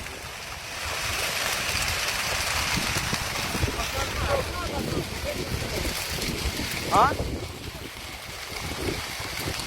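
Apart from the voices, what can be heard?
wind blowing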